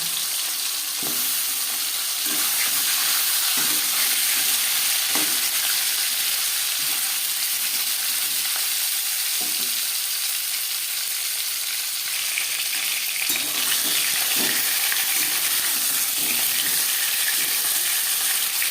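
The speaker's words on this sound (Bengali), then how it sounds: "তেল গরম হয়ে গেছে এবার দিয়ে দেবো ম্যারিনেট করে রাখা মাছের মাথা" Marinated rohu fish head frying in hot refined oil in a kadai: a loud, steady hiss of sizzling throughout, with occasional soft knocks and stirring sounds underneath.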